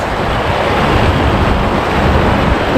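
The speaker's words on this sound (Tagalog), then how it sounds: "O, diba? Ang bilis ng tagos ng tubig." Fast-flowing water rushing beside man-made sides, a loud, dense, unbroken roar close by, with no voices.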